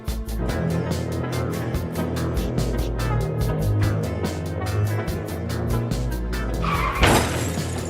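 A motorbike races at speed in the video game PUBG, with a loud continuous engine roar, a quick burst of rhythmic pulsing and a sharp crash or skid near the end, all over steady game sound and no talk.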